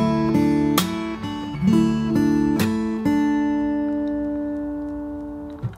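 Slowed fingerstyle acoustic guitar with percussive slaps, pull-offs and low bass notes, a few sharp struck attacks followed by a sustained chord left ringing and slowly decaying.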